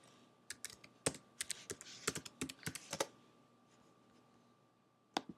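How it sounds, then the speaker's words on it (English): Password keys tapped on a computer keyboard come through as a quick, irregular run of close, crisp clicks. A pause follows, then one or two final taps. "Sometimes you have to type in the right password."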